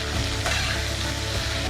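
Onions with ginger, garlic and green chili paste fry steadily in a pan, a close, continuous sizzle with faint scraping as they are stirred.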